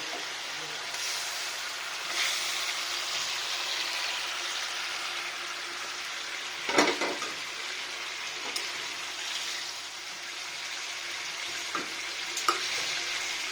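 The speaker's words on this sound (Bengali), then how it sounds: "এবার মাছ ঢেলে দিব," Rohu fish being poured into a pan of spiced masala cooked with tomato and a little water for a bhuna curry, giving a steady close sizzle and bubbling with occasional clinks of stirring.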